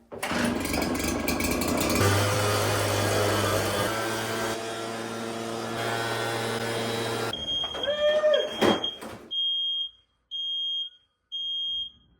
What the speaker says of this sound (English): Now that we've disabled that smoke alarm